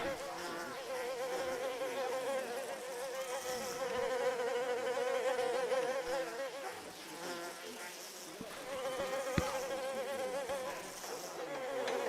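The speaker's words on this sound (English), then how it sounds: "You can hear the buzzing in your headphones like crazy." Flies buzzing in the video game Mafia: The Old Country, a dense, wavering insect drone that fills the whole stretch close and loud, rising and falling slightly, with a brief click near the end.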